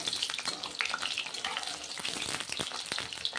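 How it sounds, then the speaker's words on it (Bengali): Eggs frying in hot oil in a pan for egg curry, giving a steady, dense crackling sizzle with sputtering pops throughout, close and fairly loud with no voices. "ডিমটা দিয়ে নিয়েছি, এখন লাল লাল করে ভেজে নিচ্ছি।"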